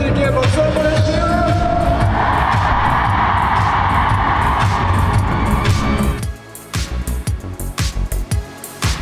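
Studio audience cheers and shouts loudly over a dense, sustained roar that cuts off abruptly, followed by a few seconds of scattered, uneven clapping.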